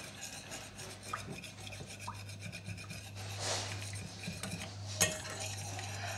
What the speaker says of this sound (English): we have to stir it continuously until it dissolve